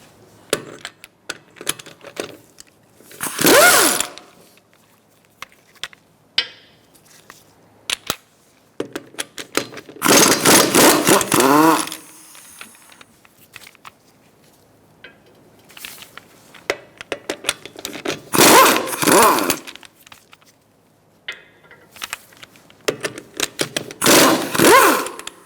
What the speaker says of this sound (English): Using a 17mm socket, we're going to remove our wheel fasteners.